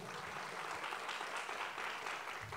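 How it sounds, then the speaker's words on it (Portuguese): An audience claps steadily and densely at the closing session of a marginal-literature event. The applause is a continuous wash with no talking. "Uma salva de palmas para Zé Celso,"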